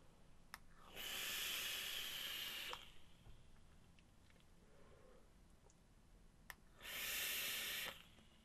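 Two bursts of steady sizzling hiss from a vape coil at 60 watts, 0.35 ohm, each lasting a couple of seconds, separated by quiet with faint clicks, close and soft.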